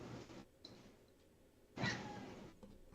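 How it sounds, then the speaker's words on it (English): A cat meows, with one short loud cry rising near the end of a quiet indoor stretch, following a fainter sound earlier on. "Kitty. Meow."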